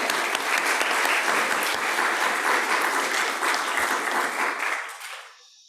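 A church congregation claps together in a sustained round of applause, loud and dense for several seconds before thinning out and fading away.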